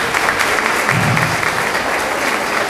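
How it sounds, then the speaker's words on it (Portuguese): Audience at a martial arts presentation applauds the Garcia jiu-jitsu team with dense, loud, sustained clapping that continues evenly throughout. "Eu quero apresentar a equipe Garcia de jiu-jitsu, por favor, uma salva de palmas"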